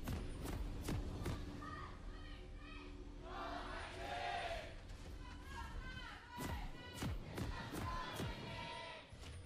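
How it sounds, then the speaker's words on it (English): A crowd in an esports arena cheers for Sandbox Gaming at a League of Legends LCK match against SK Telecom T1. The cheering is a sustained roar with thumping bursts, heard under a caster's steady commentary. "voices raised, as I always expect to be deafened by the SKT crowd, but a little bit more subdued here today"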